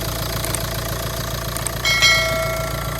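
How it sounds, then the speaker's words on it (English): A Ford S-Max engine, freshly fitted with a replacement starter motor, idles with a steady low rhythmic knock, and a brief surge near the end suggests it catching or revving, close and fairly loud. "Just need to put the engine cover and start the engine"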